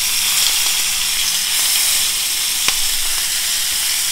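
Skirt steak sizzling in a cast iron skillet, a loud, continuous frying hiss held at steady strength from start to finish, with one brief clink partway through.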